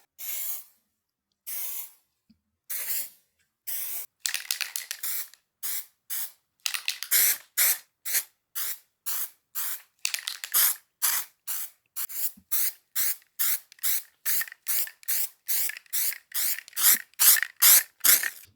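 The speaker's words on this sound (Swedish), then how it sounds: "sen ska man spraya typ något lager till, kanske typ 2-3 gånger till" Spray paint hissing from an aerosol can while coating a DIY kitchen countertop in a converted bus, in a long run of short bursts that start sparse and become steady and rhythmic, close and fairly loud with no talk.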